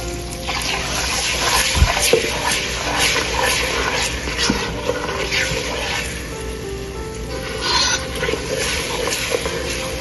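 Water poured into a pan of frying grated onion and tomato masala for a chicken dal, giving a steady, fairly loud sizzling hiss that runs throughout with brief clatters near the start.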